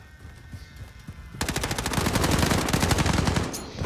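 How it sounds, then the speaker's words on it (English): Sustained automatic gunfire into smoke in Call of Duty: Modern Warfare (2019) on the Shoot House map, a loud rapid burst starting abruptly and running over two seconds, close by. "I don't always fire randomly into smoke"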